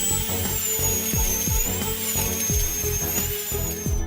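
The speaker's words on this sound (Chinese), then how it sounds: "为了穿透坚硬的牙槽骨，医生调高了钻头速度。 一切准备就绪，钻孔就开始了。" A dentist's high-speed drill boring into hard jawbone for a dental implant, a loud steady whine that holds throughout with repeated grinding pulses beneath it.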